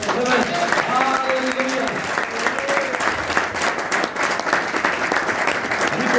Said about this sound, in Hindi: चलो हम लोग ताली बजाओ जोर से।